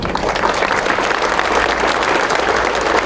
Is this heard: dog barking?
no